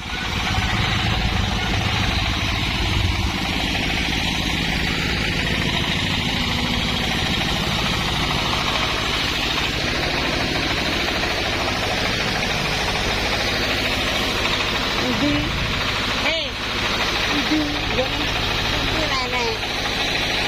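A motorcycle engine idles at a steady, close, continuous rumble during a traditional Javanese ngunduh mantu wedding gathering, with voices talking over it throughout.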